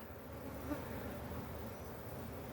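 Honey bees from a defensive hive buzz in a steady, dense drone close by, an unbroken insect hum holding the same level throughout with no voices.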